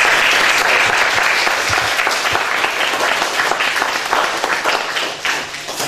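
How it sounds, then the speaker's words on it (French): Loud, sustained applause from a crowd at a judo club Christmas event, steady clapping filling the whole stretch before easing slightly at the end. "vous l'applaudissez."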